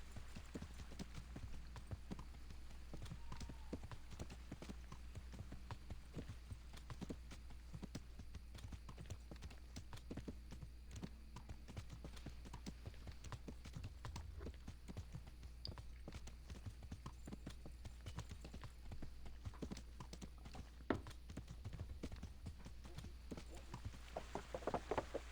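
Steady clip-clop of a horse's hooves along a path in the medieval video game Kingdom Come: Deliverance, a continuous even trot at moderate volume over a low background rumble, with no talking.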